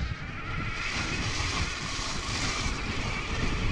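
A 4 kW mid-drive electric dirt bike riding off-road, a steady loud whir with heavy wind rush and rumbling ground noise throughout, no voices.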